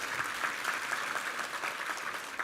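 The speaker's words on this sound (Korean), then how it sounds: "우리 하나님께 감사와 영광의 박수 올려드리겠습니다" Steady, dense applause from a congregation during a Sunday worship service in church, moderately distant and filling the whole moment without pause.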